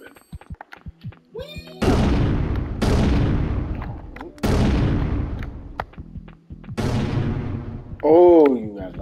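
Grenade explosions in Syphon Filter 2 multiplayer, four loud booming blasts spaced a second or two apart, each decaying into a rumbling tail, with a voice talking between them.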